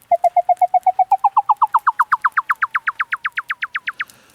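A rapid series of evenly spaced electronic chirps from a synthesizer riser with pitch modulation rises steadily, about thirty pulses sweeping upward before stopping abruptly.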